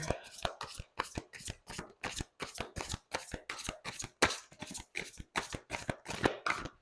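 Large cards are shuffled in a long run of quick, crisp riffling bursts, close and steady, with brief pauses between each pass.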